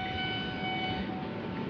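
A KRL Tanjung Priok Line commuter train rumbles past close by with a steady mechanical roar and faint high tonal whine, continuous throughout.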